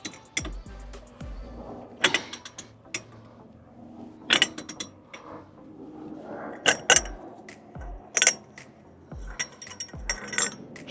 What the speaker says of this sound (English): Trusty Halford's wrench.